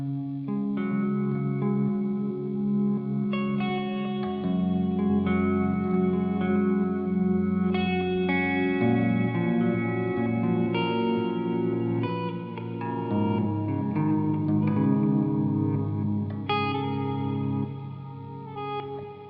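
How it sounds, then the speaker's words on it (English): Electric guitar played through an Old Blood Noise BL-44 Reverse pedal, its reversed notes swelling in and cutting off, layered with chorus and echo in a steady, dense wash of chords lasting the whole passage, with no talking. "it's reversing your sound as you play"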